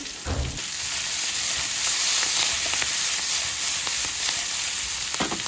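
Prawns sizzle steadily in hot oil in a pan while salt and pepper prawns cook, a dense, continuous close frying hiss with a few soft clinks of stirring and no talk.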